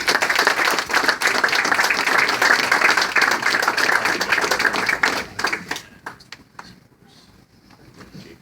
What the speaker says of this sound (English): Folks, one more big round of applause for these folks